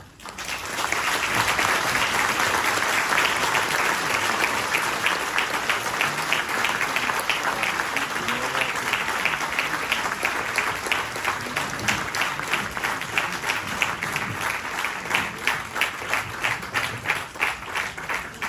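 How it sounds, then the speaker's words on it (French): Sustained audience applause at an inauguration in Les Sables d'Olonne, a large crowd clapping loudly and continuously for many seconds, settling into a faintly rhythmic, unified clap toward the end. "dont elle vous remercie chaleureusement par cette vague d'applaudissements."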